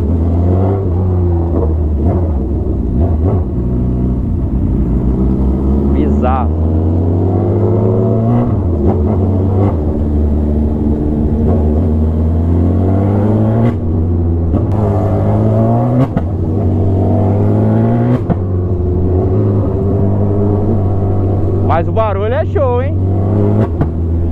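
A Honda CB1000 motorcycle fitted with a car wheel, riding with a popping exhaust: a loud, close engine drone that rises and falls as it revs, with scattered sharp cracks and a voice speaking over it.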